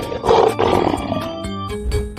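Cartoon lion lets out a loud roar that swells and rumbles for about two seconds at a splash fountain where giant animal figures appear, with a short break and a second roaring burst near the end.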